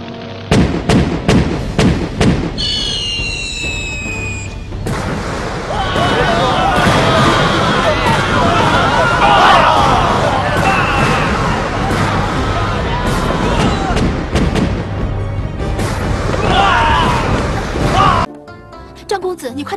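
Red-coated cannons firing in a martial-arts film battle, heavy booms and thuds going off repeatedly over a loud, continuous crowd din with shouting voices, ending in an abrupt drop.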